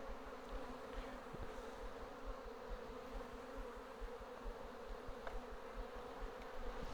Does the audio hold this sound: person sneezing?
no